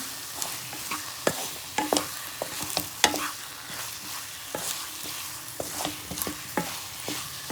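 Boiled, peeled taro roots are stirred into a sizzling masala in a pan, with repeated scraping strokes of the spoon over a soft, steady frying hiss.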